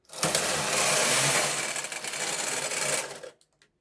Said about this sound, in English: then turn knob for punch card knitting and knit one row right now